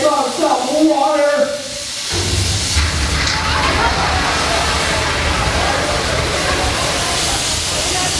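A loud, steady rush of water and hissing steam from a physical effect on a studio backlot set fills the clip after brief crowd voices at the start.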